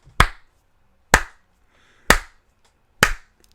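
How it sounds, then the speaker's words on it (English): Four slow, deliberate single claps land about a second apart, crisp and close in an otherwise quiet space, a sarcastic golf clap. "Golf clap, ladies and gentlemen."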